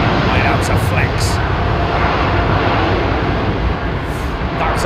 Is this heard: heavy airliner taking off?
yes